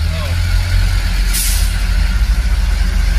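Heavy trucks on a busy road in Valenzuela, with a loud, steady low diesel rumble throughout and a short hiss of air brakes near the middle, while people talk nearby.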